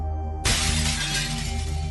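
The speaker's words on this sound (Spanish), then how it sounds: "Escuchamos cómo se rompió una ventana." Window glass shatters suddenly inside a subway train, a sharp loud crash that spreads into a sustained bright spray of breaking fragments over a low rumbling hum.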